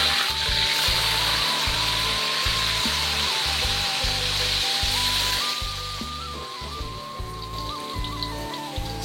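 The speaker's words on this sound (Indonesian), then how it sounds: "ini langsung kita goreng." Soaked salted fish, jengkol and bitter melon hit hot oil with a loud, dense, continuous sizzle and crackle up close, easing slightly partway through, with a low hum underneath.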